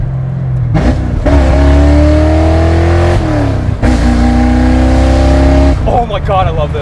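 Fox Body Mustang GT with a custom Hot Rod Scott exhaust turned down before the rear diff revs hard and loud in repeated rising pulls, heard from inside the car, with brief pauses between bursts.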